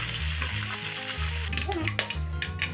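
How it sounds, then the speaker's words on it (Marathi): Garlic fries in oil for a fenugreek dish, a bright, hissing sizzle over a low rhythmic hum, with sharp spatters and stirring clicks building toward the end and no talking. "तेलात लसूण घालून परतून घ्यावे"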